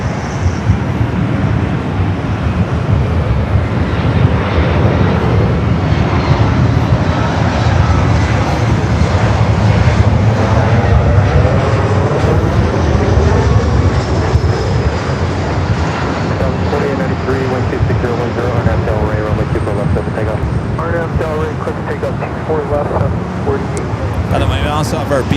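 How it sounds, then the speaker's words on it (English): An airliner on Flight 5 to Tokyo Narita powers up for a north side takeoff at Los Angeles LAX, a loud sustained jet roar rising and holding, with a person talking over it. "Flight 5 heading back to Tokyo Narita, heading up for a north side takeoff"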